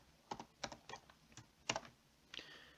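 Computer keyboard being typed on while code is entered, a run of crisp, separate keystrokes in irregular bursts, close and moderately loud with no talking.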